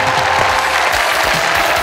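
Studio audience on a Bangladeshi TV variety show applauding a quiz winner, a steady, dense wash of clapping hands that fills the whole moment without pause.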